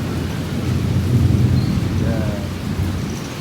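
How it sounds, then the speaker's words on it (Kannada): A heavy downpour with thunder makes a loud, continuous wash of rain mixed with deep rumbling swells that build in the middle, heard up close without speech. "ಮಳೆ ಅಂತೂ ಜೋರು ಬಂದೈತೆ ನೋಡ್ರಿ"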